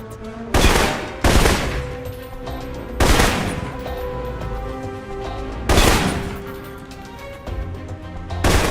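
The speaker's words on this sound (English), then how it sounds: "For long-range encounters, the assault rifle's the key." Assault rifle fire in the video game Alpha Protocol, several loud separate bursts of rapid shots spread evenly through the clip, with quieter game noise between them.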